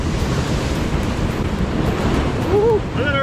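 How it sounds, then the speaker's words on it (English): Ocean waves roll in off the Big Island of Hawaii during a fishing trip, a loud, steady wash of surf mixed with wind buffeting the microphone, and a brief whoop near the end. "Oh, some waves coming in."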